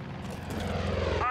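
A propeller plane drones overhead in Far Cry 5, and the engine hum swells louder through the short stretch. Indistinct game noise sits under it.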